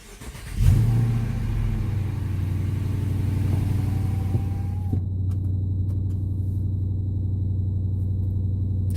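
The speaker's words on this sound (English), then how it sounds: "So let's fire this baby up right quick." A 2017 Dodge Charger R/T's engine cranks and fires with a loud burst, revs briefly, then settles into a deep, steady rumbling idle, heard up close with no talking.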